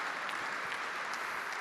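Faint, steady applause from a ceremony audience honoring a young apprentice at a gastronomy and wine awards event, a soft even clatter of hands heard from a distance.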